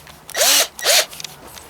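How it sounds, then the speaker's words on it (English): Power drill spinning a part chucked into it during a Ford 800 tractor front main seal and governor seal job: two short, loud whirring bursts about half a second apart, close to the microphone. "I'm gonna chuck this thing up on my drill here."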